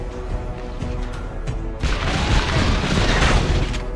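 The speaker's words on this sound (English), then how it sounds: "Your team destroyed a turret!" A turret blows up in the Mobile Legends game, giving a loud, dense burst of crashing noise that rises halfway through and keeps rolling to the end over steady game sounds.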